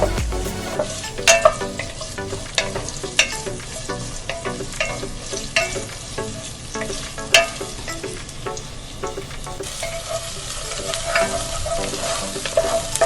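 Onion fries in a pan while making lobia masala, a black-eyed pea curry: a continuous close sizzle broken by frequent sharp stirring clicks and scrapes, with no voices.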